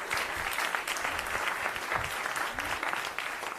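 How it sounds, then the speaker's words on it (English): An audience at a community event claps for competing teams, a dense, sustained round of applause from a sizeable crowd heard up close and steady from start to end. "give everybody a round of applause,"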